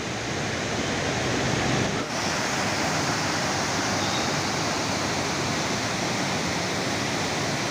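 Rushing water at Aruvikkara dam, a loud, steady broadband roar of falling and churning water heard close and continuous, with no voices over it.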